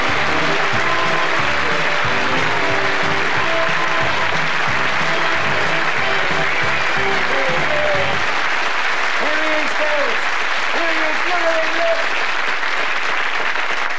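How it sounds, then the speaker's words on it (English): A studio audience at a snooker game show applauds loudly and continuously, a dense wash of clapping that runs the whole time, with a voice over it near the start and music entering toward the end. "Clap your hands together for my hairy helper,"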